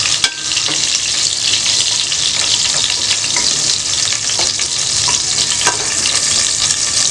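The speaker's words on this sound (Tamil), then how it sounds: "எல்லா உருண்டையும் வந்து நம்ம வந்து ஃப்ரை பண்ணி எடுத்துக்கலாம்" Chicken kola balls deep-frying in hot oil give a loud, steady sizzle and bubbling hiss throughout, with occasional sharper crackles and pops, close up and without any talking.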